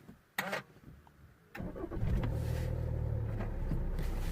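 A Jeep Cherokee cranks briefly after a couple of sharp clicks and catches, its engine settling into a steady close idle with a low hum.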